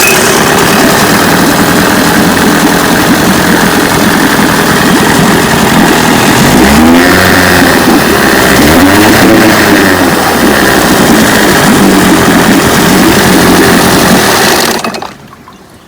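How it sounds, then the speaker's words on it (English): A 1968 Johnson 9.5 HP outboard motor runs steadily and loudly, its pitch rising and dipping twice partway through as it revs, then cutting out abruptly near the end. "it's been an exciting 2 days of working on this motor to get it to run like this"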